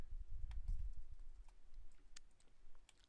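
Quiet clicks of typing on a computer keyboard, a sparse run of separate light keystrokes over a low background rumble.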